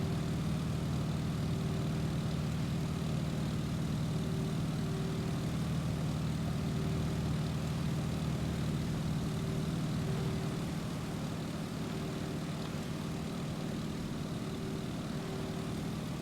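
A propeller aircraft engine in Microsoft Flight runs at a steady, loud drone with a constant hum, holding level throughout with no voices over it.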